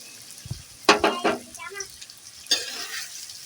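Pre-fried potatoes tumble into a hot pan for a dhaba-style potato dish, giving a few sharp clattering bursts followed by soft scraping and sizzle, all close up with no talk.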